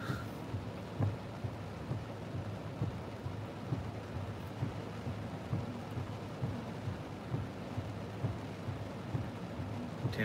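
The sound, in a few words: heavy rain on a parked car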